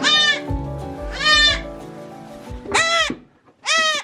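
Newborn baby goat bleating on a farm: four loud, close, wavering cries separated by short pauses, with faint low background noise between them.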